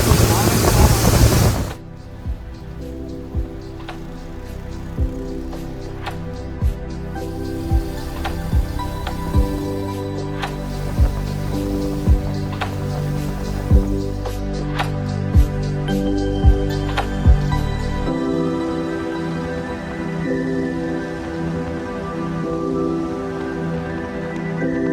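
Heavy rain pours during a camping trip on Kabaragala mountain, a dense, constant hiss that fills the whole stretch, with a louder burst at the very start and scattered sharper drops and taps throughout.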